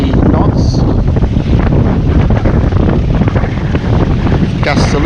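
Strong wind of around 20 knots roars steadily across the microphone on a sailboat off South Australia, buffeting loudly throughout with a constant rushing noise outdoors.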